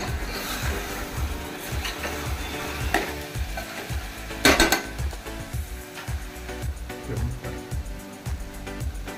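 Fish curry in a pot is stirred and mixed after the lid comes off, with rhythmic scraping and light knocking of the utensil over a soft simmering sizzle, close and without speech.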